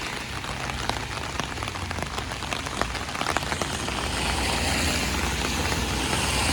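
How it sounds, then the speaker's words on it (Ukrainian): Steady rain falls on a street in Zakopane, a dense continuous hiss of drops on hard surfaces, close and even, with a faint engine hum underneath. "Дощ трохи стає менше, потім знову більше."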